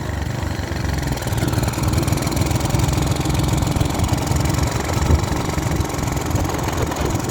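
A small pressure washer engine runs rough with a heavy, uneven lope like a diesel, a loud close chugging drone that holds steady throughout.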